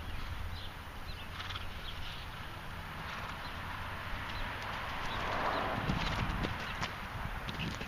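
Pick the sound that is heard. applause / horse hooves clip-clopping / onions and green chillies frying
horse hooves clip-clopping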